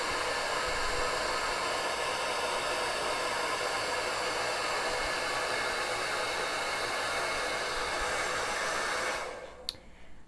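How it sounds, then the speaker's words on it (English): A hair dryer on its cool setting blows steadily and loudly up close for about nine seconds, then cuts off abruptly near the end, leaving a couple of faint clicks and no speech. "now I'm getting ready to blast it with the cool button"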